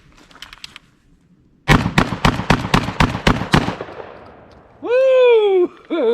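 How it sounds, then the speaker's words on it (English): A Charles Daly model 601 shotgun with a Nordic magazine tube extension fires about nine sharp blasts in quick succession outdoors. Loud whooping follows. "We're just going rapid fire into it."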